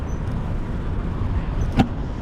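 Cars pass in street traffic while cycling through Tetlan, Guadalajara, a steady low road rumble throughout, with one brief louder swell near the end.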